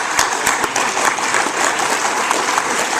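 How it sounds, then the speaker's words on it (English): Audience applauding at a congressional district political convention: dense, continuous clapping from many people, fairly loud and close, holding steady throughout without speech. "I want to give you an applause"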